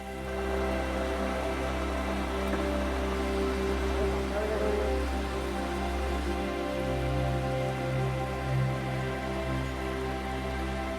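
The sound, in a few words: heavy rain falling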